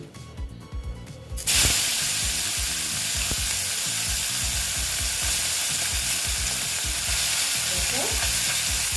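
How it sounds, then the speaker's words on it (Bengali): Small fish dropped into hot oil, a sudden loud burst of crackling sizzle after a quieter start with some clatter, then a dense, steady, close hiss of frying that continues unbroken. "ভেজে নেব ভালো মতন কড়া করে ভাজবো"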